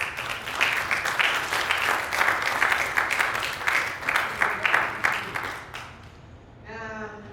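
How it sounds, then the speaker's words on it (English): An audience at a panel discussion claps in a steady, moderately loud round of applause that stops abruptly near the end, followed by a brief voice. "can you please give Pastor Stephen a clap, please"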